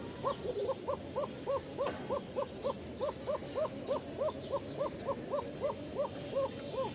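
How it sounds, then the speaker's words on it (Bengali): Rajshahi Giribaz pigeons coo in a fast, steady series of soft, rounded hoots, close by and continuing without a break over a low background rumble. "ডাকের ভিডিও আছে, এই দেখেন।"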